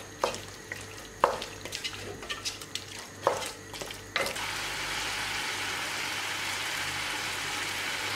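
Beef biriyani gravy reduces in a pan, with a few spoon clanks and stirring scrapes at first, then a steady, even sizzle and bubbling that carries on alone.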